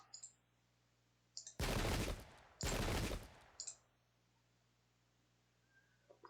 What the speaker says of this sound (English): we can engage in some ineffectual long-range rifle fire, I suppose